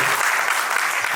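An audience applauds at a book launch ceremony, a steady dense wash of clapping hands, loud and continuous for the whole moment.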